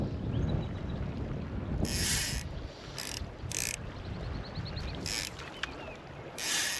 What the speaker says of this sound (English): Bit of a wind today.